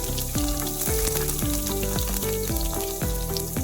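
Sliced ginger and garlic fry in hot oil for a lemon curry, a steady sizzle running under louder melodic background music throughout.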